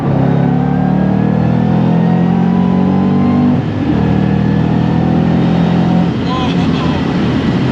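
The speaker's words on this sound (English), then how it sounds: "Let's maybe downshift. We're in 5th. Can we go to 3rd?" A 2011 Ford Mustang Shelby GT500 engine drones loud and steady from inside the car, dropping from fifth to third gear, its low rumble shifting pitch briefly midway before settling into a sustained rev.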